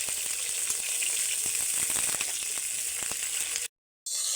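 Purple cauliflower frying in hot oil, a steady close sizzle and crackle running alone for most of the clip before cutting to a brief silence near the end.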